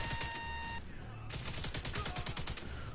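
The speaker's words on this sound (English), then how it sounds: "all this gunfire would probably freak them the hell out" Rapid bursts of video game gunfire, dense automatic rattling shots packed close together, loud throughout with a brief lull midway before the firing resumes.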